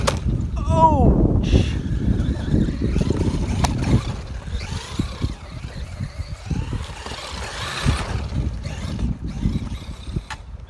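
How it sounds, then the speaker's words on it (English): A Traxxas Maxx 4S RC truck pulls wheelies on sand in the Rocky Mountains, its electric motor whining and surging in rising pitch sweeps amid outdoor wind rumble, with people heard reacting nearby. "She's doing wheelies on the sand."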